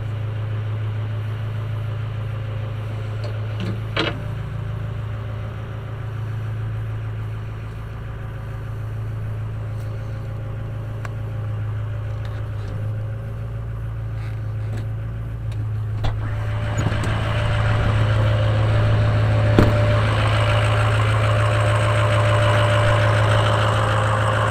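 A Ford F550 Power Stroke diesel engine idles with a steady low rumble and a faint knocking clatter. It grows somewhat louder and rougher partway through, close by and continuous, with no one talking.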